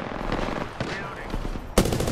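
Rapid gunfire in the Apex Legends video game, bursts of repeated shots close up, with a louder burst near the end and a voice speaking briefly.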